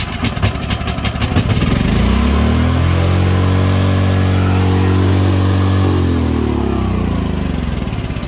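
A Predator generator engine from Harbor Freight fires up after a few rough clattering pulls, then settles into a loud, steady running drone nearby before easing slightly at the end.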